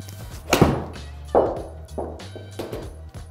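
Golf ball struck with a club, aiming for a draw, on a Full Swing Pro Series simulator: a sharp thunk of impact followed by several further dull thuds, close and fairly loud, with no talk.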